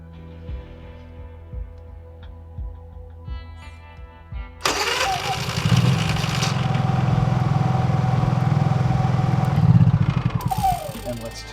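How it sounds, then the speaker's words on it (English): Honda EU3000iS inverter generator starts by wireless remote after a few clicks and beeps, then runs with a steady close hum that swells briefly before settling, with someone talking during the startup. "the generator should start."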